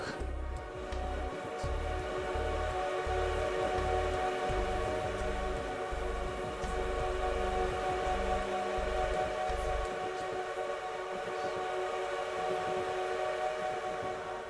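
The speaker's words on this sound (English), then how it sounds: "Or you can honk." A train horn in the Resonance Solstice game honks in repeated blasts, a sustained tonal drone with deep pulsing bursts that start and stop over a rumbling rail background, then fade out leaving the steady hum.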